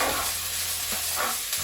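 Veggie mince for gyoza filling sizzles and crackles in a hot pan, a steady close hiss of frying with faint stirring scrapes.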